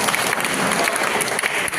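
Audience at a felicitation event for journalists in India applauds loudly, a dense steady wash of clapping hands filling the room throughout with no voices over it.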